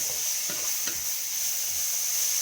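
Chopped leeks frying in a pan for risotto give off a steady, loud sizzling hiss, with a few soft stirring scrapes near the middle.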